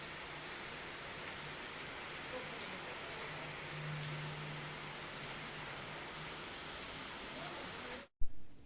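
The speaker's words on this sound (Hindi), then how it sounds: "बाहर बारिश हो रही है" Steady rain falls outside in a continuous soft wash of noise that holds for about eight seconds before a brief cut. No one speaks over it.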